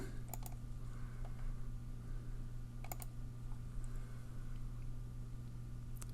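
A computer keyboard gives faint, sparse clicks over a steady electrical hum as an invoice date is entered in an accounts payable screen.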